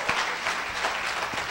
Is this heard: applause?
yes